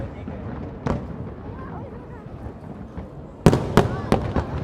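New Year fireworks over Asiatique in Bangkok, seen from Taksin Bridge, with a single boom followed by a cluster of sharp booming bursts near the end, heard over crowd noise and someone talking.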